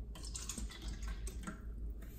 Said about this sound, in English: Let's pour some water in.